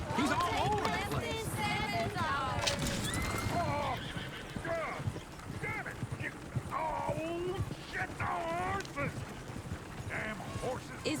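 Horses whinny and neigh repeatedly in Red Dead Redemption 2's town of Valentine, with hooves clopping underneath and people talking throughout the busy, continuous scene.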